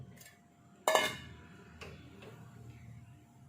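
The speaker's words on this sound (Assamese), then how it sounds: "মাছখিনি দি মই এতিয়া এয়া ঢাকোন মাৰি দিম" A lid is set down on a pot of fish curry cooked in mustard sauce. It makes one sharp metallic clank, followed by a few faint light knocks and a low kitchen hum.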